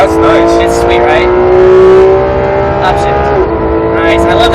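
A Porsche 911 GT3 RS on the Vegas Speedway track, its engine roaring loud and close with a rising pitch that dips at an upshift, while an instructor talks over it.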